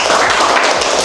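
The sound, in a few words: cadets clapping for those who scored 100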